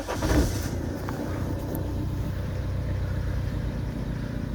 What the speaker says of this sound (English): I am going to start the vehicle.